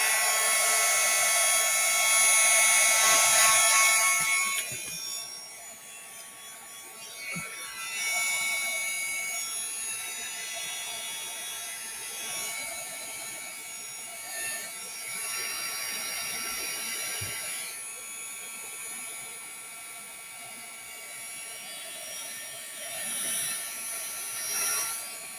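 A heat tool blows steadily, drying a watercolor background on cardstock from the back. Its high whirring hiss is loudest at the start, then holds as a quieter continuous drone with slight wavering.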